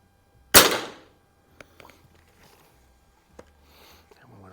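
A single sharp crack from a pump air rifle, a Sheridan Blue Streak or Crosman 101, fires close by with a quick decay. A few faint clicks and handling noises follow in near silence.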